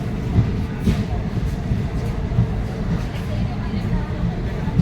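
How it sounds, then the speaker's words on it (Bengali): Kanchankanya Express train pulling into New Mal Junction station at dusk, a steady low rumble of wheels and carriages running continuously at close range, with no voices. "নির্ধারিত সময় থেকে 37 মিনিট দেরিতে আমাদের ট্রেন নিউ মাল জংশন স্টেশন এন্টার করছে।"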